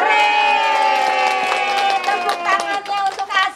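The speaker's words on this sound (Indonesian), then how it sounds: "tepuk tangannya untuk Aska" Children and adults at a fifth birthday party clap and cheer together, a loud festive burst that starts as a full chorus and then breaks into uneven clapping and shouts, with a voice mixed in.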